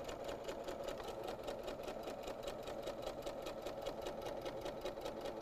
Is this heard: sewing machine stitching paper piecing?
yes